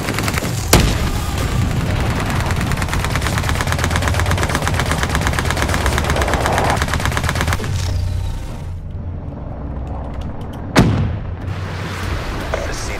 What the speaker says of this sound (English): My bombing run was coming in.